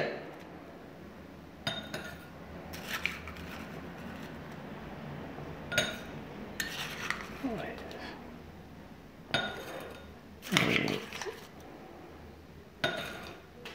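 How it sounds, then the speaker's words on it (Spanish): Crushed ice is spooned into a cocktail glass holding an orange slice, producing a series of scattered, sharp clinks and rattles of ice against glass, spaced irregularly over a quiet room. "le vamos a agregar nuestro hielo picado"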